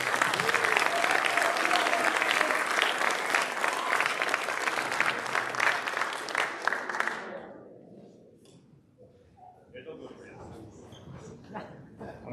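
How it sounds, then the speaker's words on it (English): A crowd at an awards banquet claps in loud, sustained applause for several seconds, then it fades out, leaving quiet room noise and a few scattered sounds. "One more round of applause to all our award winners tonight."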